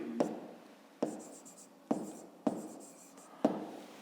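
Pen writing on paper in a math exercise notebook: five short, crisp scratching strokes at irregular intervals, each a quick scrape that fades, close and alone with no voices.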